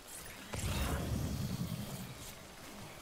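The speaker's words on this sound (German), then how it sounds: "Aber der Regen zerstört die Sachen halt auch, ne?" Steady Timefall rain hisses in Death Stranding, a broad soft wash of falling water that swells after a brief thump and keeps on evenly.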